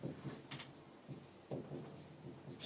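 Handwriting a note during a Class 11 maths lesson on sets, with soft, scratchy pen strokes coming in short irregular bursts close to the microphone, no talking.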